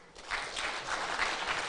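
An audience at a regional conference applauds panelists and presenters with a steady, moderately distant round of clapping that holds evenly throughout.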